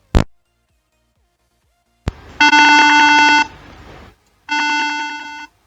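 Two sharp clicks, then a steady electronic buzzer tone from an Arduino simulation sounds for over a second, stops, and sounds again for about a second, clear and close.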